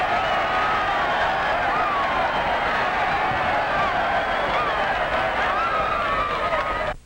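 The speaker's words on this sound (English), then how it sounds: "and get a cheer like this" A stadium crowd cheers loudly and steadily for a player who has just scored in a ball game, a dense roar with whistles and shouts that holds for about seven seconds, then cuts off.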